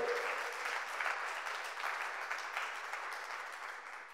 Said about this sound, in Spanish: Give a hand to the Lord if you're here.